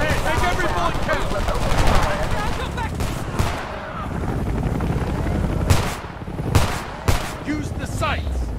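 Automatic gunfire in the video game Homefront, with rapid bursts and sharp single shots over a loud, chaotic battle backdrop, and voices shouting through the fighting.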